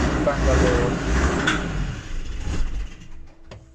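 Land Rover Discovery 2 Td5 diesel engine running again after cutting out, a steady low rumble that fades somewhat toward the end, with faint knocks and clicks near the close.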